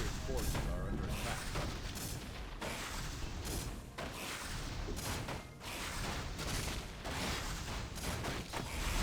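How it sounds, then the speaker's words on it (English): Rocket volleys and explosions boom almost without pause through a video game match, dense and loud, with a commentator talking over the battle. "Rockets miss for the first time."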